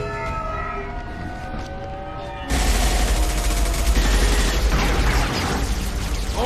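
Sci-fi combat in Mass Effect 2 opens with a siren-like tonal wail over mechanical hum, then sustained rapid gunfire bursts in loud and close, continuing to the end without speech.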